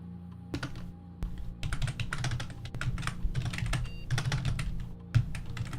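Rapid typing on a computer keyboard, close and clear, with bursts of clicking keystrokes separated by brief pauses and a few heavier key thumps.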